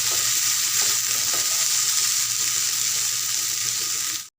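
Sliced Chinese potato stir-fries in a non-stick pan with no added water, giving a loud, continuous close sizzle with faint stirring beneath it until it cuts off abruptly at the end.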